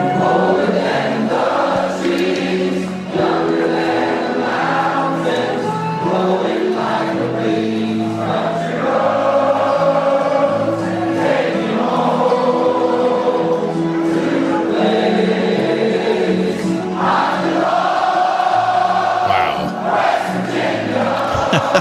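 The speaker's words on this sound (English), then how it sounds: "This is the team singing with the crowd." West Virginia team singing together with a large crowd, a loud sustained mass of voices carrying a melody continuously for over twenty seconds, with cheering swells.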